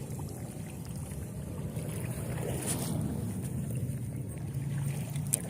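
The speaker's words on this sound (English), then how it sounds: "hearing an endless roar of Harley Davidson motorcycles" Outdoors by the Milwaukee River, a distant, endless low roar of many Harley-Davidson motorcycles forms a continuous faint rumble, mixed with wind noise and moving water, with no talking heard.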